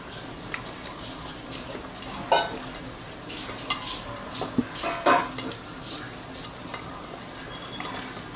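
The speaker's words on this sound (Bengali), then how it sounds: "এবার আমি এটা মেখে ওই 10-15 মিনিটের মতো রেখে দেবো।" Chicken is mixed by hand with spices and black pepper for a marinade, giving close, intermittent wet squishing and stirring with a few louder slaps and clatters.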